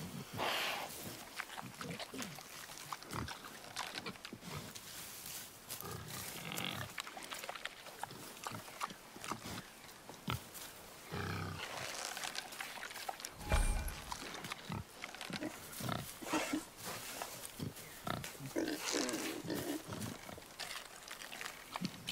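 Wild boar in the God of War game grunting and snorting in short, irregular bursts, mixed with game sound effects and occasional speech.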